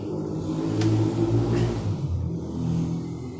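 A motorcycle with an automatic clutch idles nearby after starting, with a steady, loud rumbling drone and slight fluctuations in pitch.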